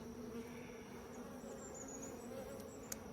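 Honeybees in a strong colony drone steadily from an open hive, a close, continuous buzz with one faint click near the end.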